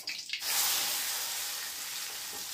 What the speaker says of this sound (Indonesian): Langsung kita tumis ya.